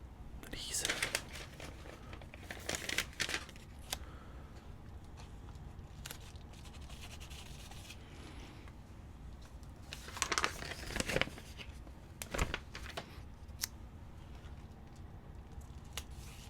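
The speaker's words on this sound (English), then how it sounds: "A lot of peeling and sticking and paper" Peeling and sticking of paper and adhesive while a trading-card repack is put together, giving soft crinkles, rips and tacky peels in scattered close-up bursts over a quiet background, with faint whispered talk.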